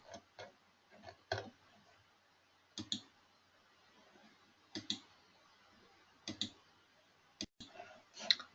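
Computer mouse clicks on a save button, a handful of faint, sharp clicks spaced irregularly, some in quick pairs, against a near-silent background.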